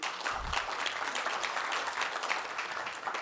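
A large audience applauds Congressman Ro Khanna during a speech, producing a dense, even roar of clapping heard from a distance and fairly faint, holding steady for the whole stretch.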